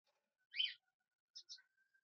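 Newly hatched finch chicks in a breeding box give a few faint, short high chirps, one burst and then a quick pair, separated by silence.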